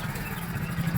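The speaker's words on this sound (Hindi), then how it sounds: "ये वही ट्रैक्टर है जो हमारे यहाँ पाया जाता है कभी कभी।" A tractor engine idles steadily at a moderate distance, giving a continuous low rumbling hum at an even level, with no talking over it.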